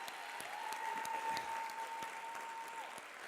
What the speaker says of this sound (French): une bonne main d'applaudissement pour ma femme